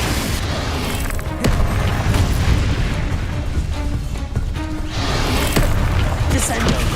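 A Confringo blasting spell explodes in Hogwarts Legacy, giving loud booming bursts of game combat over a continuous dense rumble, with other heavy impacts close together throughout.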